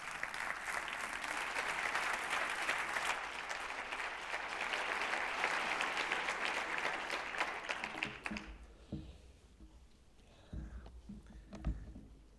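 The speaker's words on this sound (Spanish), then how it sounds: "le recibimos con un aplauso también" A conference audience applauds as the Minister of Universities, Joan Subirats Humet, comes up to the stage, a broad crowd clapping held for about eight seconds, then dying away into a quiet room with a few faint knocks and shuffles.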